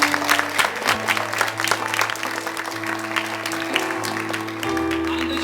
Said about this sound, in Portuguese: Então dê uma forte salva de palmas a Ele.